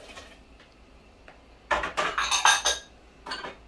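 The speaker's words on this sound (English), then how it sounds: "I'm throwing in my onion and my shallot." Chopped onion and pepper tipped into a pot for buck crab soup, giving a quick run of clattering knocks and scrapes against the metal, close and moderately loud after a quiet start.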